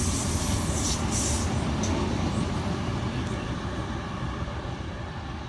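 A Sydney Trains Oscar H-set passes Petersham station at night, a loud, steady rumble of wheels and carriages rolling close by for several seconds, gradually easing off toward the end with no talking.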